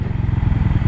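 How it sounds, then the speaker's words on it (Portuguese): A new motorcycle carries a rider and a passenger, its engine chugging in a loud, close, rapid pulsing throb with a rattling edge. "Tamo aqui na moto do David."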